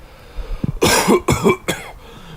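Three harsh coughs in quick succession, close and loud, with a faint low rumble before them.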